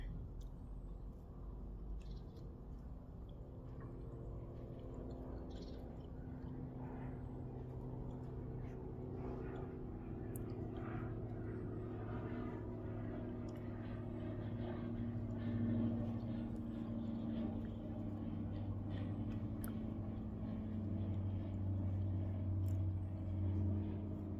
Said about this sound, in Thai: เห็นนั้นเครื่องบินเฮลิคอปเตอร์